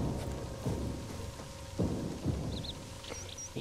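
Thunderstorm with steady rain and low rumbling thunder rolls, a continuous wet hiss with a few deeper swells, heard during a Redfall gameplay session with no talking.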